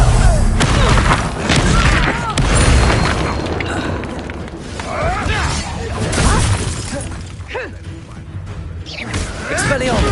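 The Reducto spell blasts in Hogwarts Legacy, a loud, booming explosion with shattering debris layered over continuous game battle noise and effects, dense and sustained throughout.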